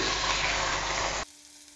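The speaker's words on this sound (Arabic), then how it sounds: "هبدأ انزل بشرايح البانيه." Breaded chicken slices hitting hot butter and oil in a frying pan, a loud dense sizzle for just over a second that then cuts away abruptly to near quiet.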